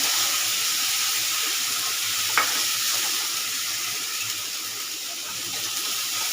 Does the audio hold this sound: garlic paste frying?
yes